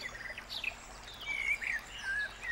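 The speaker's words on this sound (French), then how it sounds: "des oiseaux, tu vois, de forêt" Bright, high chirps and whistled phrases from several forest birds over a soft, quiet outdoor background.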